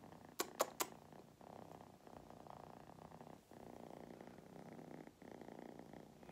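A female cat purrs steadily while held and cuddled indoors, a soft continuous rumble close to the listener, preceded by a few sharp clicks.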